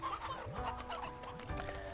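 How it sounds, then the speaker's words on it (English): Chickens in the farming game Slime Rancher cluck and chatter continuously in a busy flock, their overlapping calls close and steady against a soft background of game ambience. "Oh, look at all these chickadees,"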